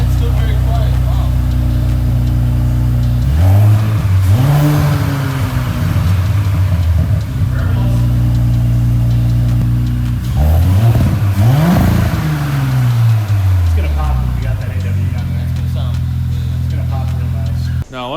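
An Audi S5 B9 fitted with an AWE Track exhaust revs repeatedly, loud and close, its engine note climbing and falling in two main surges over a steady idle, with people talking throughout.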